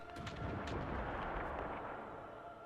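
Howitzer and field guns fire in a World War I strategy game, a dense continuous rumble of artillery blasts with several sharper reports layered over a steady low roar.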